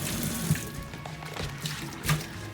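Bleach water splashes and trickles in a kitchen sink as it is cleaned before cooking, a close, uneven wet patter with a few sharper splashes.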